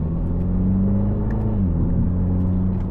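GAC Empow R performance sedan exhaust in sport mode while driving, a steady low rumbling drone that shifts slightly in pitch as the engine note changes, continuous and close with no talk.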